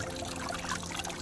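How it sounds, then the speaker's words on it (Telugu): A small waterfall at a river spills steadily onto rocks, giving a close, continuous splashing rush with no pauses. "వాటర్ ఫాల్స్ వాటర్ పైనుంచి కింది పడుతుంటే రాళ్ళ మీద చాలా బాగుంది"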